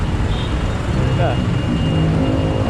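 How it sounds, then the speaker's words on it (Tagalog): A truck passing on a city road in the Philippines, heard from a moving motorcycle as a continuous, loud engine rumble mixed with wind and traffic noise, steady throughout the short stretch. "May truck kasi."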